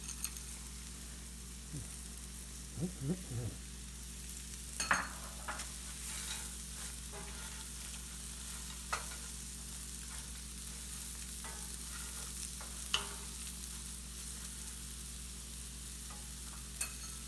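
Bacon and potato gnocchi fry together in a pan with a low, steady sizzle. Intermittent stirring clatters and scrapes break through it, and no one speaks.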